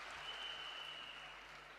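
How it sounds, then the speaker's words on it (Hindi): Applause from a crowd at a Delhi event for the direct selling industry, honouring the Prime Minister; a steady, dense clapping wash fills the short stretch without any voice over it. "तो एक बार जोरदार तालियां देश के प्रधानमंत्री नरेंद्र मोदी जी के लिए।"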